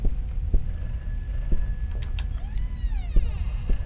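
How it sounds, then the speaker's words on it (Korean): A telephone rings in a Korean horror video game set in a strange house, a thin electronic bell trilling repeatedly at moderate distance over a low ambient rumble, with occasional thumps and no speech. "전화기 소리 들리지 않아요 여러분?"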